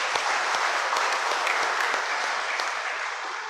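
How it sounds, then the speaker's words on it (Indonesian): Steady, dense applause from a church congregation at a First Communion Mass, a full crowd clapping continuously at close range and holding an even level throughout. "Tepuk tangan untuk anak-anak kita."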